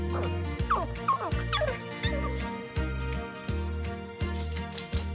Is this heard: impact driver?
no